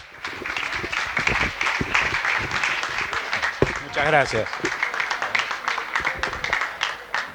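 Audience applause welcomes a doctor at a talk on medicinal mushrooms; steady clapping fills the room throughout, with someone speaking briefly over it near the end.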